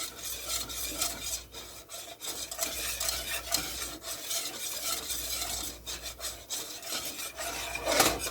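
A low carb roux for chicken and dumplings being stirred in a pan, a continuous close scraping and rubbing of utensil against the pot with a faint sizzle underneath, no voices.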